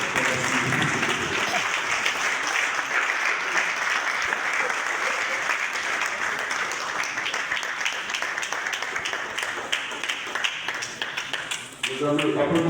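A gathered crowd at a community café meeting applauds a speaker with sustained, dense clapping that tapers off near the end as voices return.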